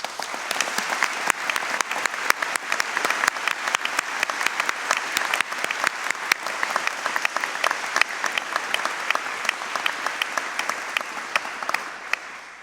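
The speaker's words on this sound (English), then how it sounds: "please stand and let's give them a round of applause" Sustained audience applause for teaching assistants at a graduate convocation ceremony, many hands clapping steadily at an even level for the whole stretch, with no talk over it.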